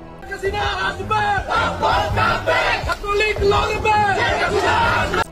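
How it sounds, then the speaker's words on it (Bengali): A protest march crowd in Dhanmondi, Dhaka, carrying sticks, chants slogans in unison, loud rhythmic shouted calls that rise and fall in repeated waves. "ইউনূস হটাও দেশ বাঁচাও স্লোগানে লাঠি হাতে নিয়ে ধানমন্ডিতে আওয়ামী লীগ ও ছাত্রলীগের সর্বকালের সবচেয়ে বড় বিক্ষোভ মিছিল অনুষ্ঠিত হয়েছে"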